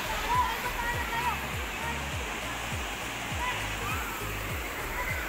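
Steady rushing roar of the waterfall at Puray Falls in Montalban, Rizal, a constant broadband wash of falling water with a faint rhythmic low mechanical thumping underneath.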